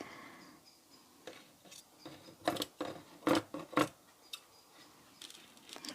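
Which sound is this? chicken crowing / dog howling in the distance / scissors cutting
scissors cutting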